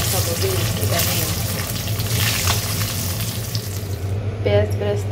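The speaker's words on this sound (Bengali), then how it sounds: "এখন ডিমগুলো ভুনা করে নিচ্ছি, মানে ভেজে নিচ্ছি" Eggs fry in oil in a pan with a continuous loud sizzle and crackle close by, a low steady hum underneath, and a few clinks of a utensil near the end.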